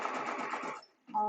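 A sewing machine stitches a fabric bag seam in a short, quiet burst that cuts off, followed by a brief start of talk.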